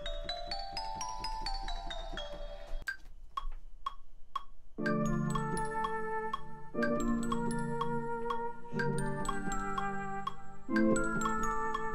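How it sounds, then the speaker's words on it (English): A short mallet sound from a trap beat rings out in a melodic pattern, with bright tinkling hits and a few isolated strikes midway, played alone without voices. "So we've just got this one short mallet sound"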